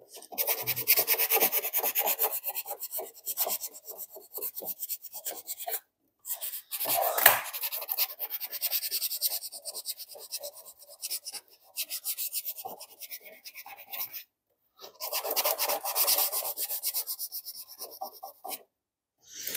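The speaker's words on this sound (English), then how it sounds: "I'm also scratching the device" A thick piece of material scrapes back and forth across the surface of a secondhand projector, making loud, rasping rubbing strokes in several bursts separated by brief pauses.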